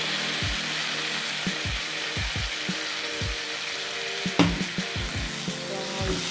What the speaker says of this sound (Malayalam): ഇതിലേക്ക് നമ്മൾ അരച്ച് വെച്ച തേങ്ങ ഒഴിച്ചു കൊടുക്കാം.